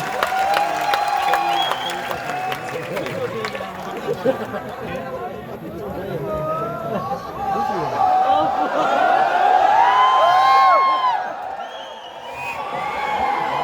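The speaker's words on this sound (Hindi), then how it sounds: "मुमताज में एक बार जोरदार तालियां उठाएं मुमताज।" A crowd at a Hindi comedy poetry gathering claps steadily while voices talk and chatter over the applause, a busy, continuous wash of hand claps and murmur.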